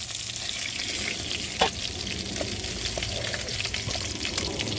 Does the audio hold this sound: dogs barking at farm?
no